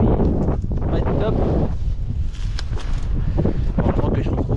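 Strong wind buffets the microphone at a hilltop viewpoint, a loud, steady low roar throughout with gusting surges, while a voice talks over part of it.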